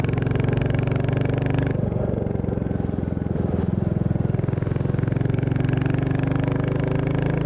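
A 2024 Royal Enfield Bullet 350 single-cylinder motorcycle is ridden with a loud, steady, close engine thump, and a brief dip around the second mark suggests a gear shift before the rhythmic beat resumes.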